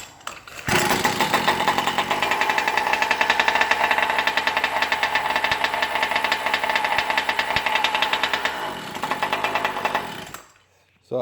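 A motor fires up and runs steadily for about ten seconds, a loud, dense, even roar with no voices over it, then cuts off abruptly.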